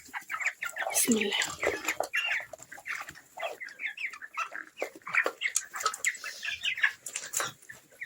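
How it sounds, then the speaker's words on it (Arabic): Hungry broiler chickens in a poultry house cluck and squawk continuously in a dense flock chorus, close and moderately loud, with a brief spoken phrase near the start. "يعني طبعا هم جعانين وعايزين اكل، فهم الفراخ عاملين ازاي ما شاء الله عليهم"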